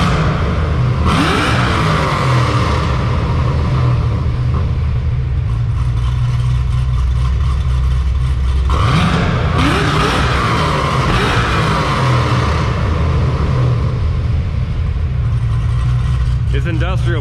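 A supercharged LSA V8 in a Chevrolet Monte Carlo revs hard twice in an empty industrial park, loud and close, each rev climbing then falling back to a rumbling idle, with some talk mixed in.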